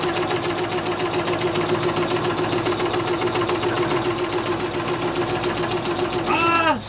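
Home sewing machine stitching all the way around a piece of fabric, a steady fast mechanical whirring with rapid regular pulses that runs continuously at close range, ending abruptly with a brief voice.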